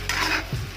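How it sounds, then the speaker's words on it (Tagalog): Chicken adobo with potatoes and pineapple stirred in a pan, a short close scrape of the utensil over a soft sizzle with a brief clatter against the pan. "Parawin natin siya guys para pantay ang luto at mahalo naman yung magic sarap"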